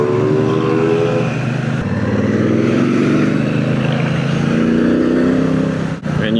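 Triumph Bonneville Bobber motorcycle engine while riding, a steady loud smooth drone with rising and falling pitch as it accelerates, wind rush underneath and a short dip near the end.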